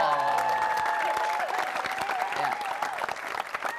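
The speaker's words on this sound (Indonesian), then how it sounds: "tepuk tangan dulu dong" A studio audience at a Ramadan television show claps loudly and steadily at close range, with a voice speaking over it and musical tones sounding underneath.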